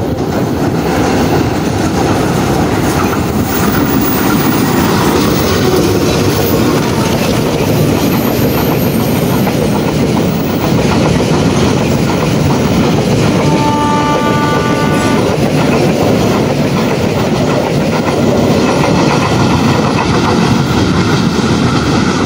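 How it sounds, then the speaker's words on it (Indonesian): A KLB Rel special rail inspection train passes on a steep line near Sasakarikil heading toward Cibatu station, its steady loud rumble and clickety-clack of wheels on track continuous throughout, with a brief horn-like tone midway. "KLB Rel ya, baru saja melintas di Sasakarikil, KLB Rel itu ke arah stasiun Cibatu."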